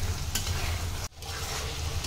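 Mango pickle mixture sizzling steadily as it fries in a pan, with a spoon stirring through it and a brief scrape near the middle; close and continuous, no talking.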